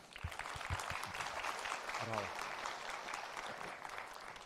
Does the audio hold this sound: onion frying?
no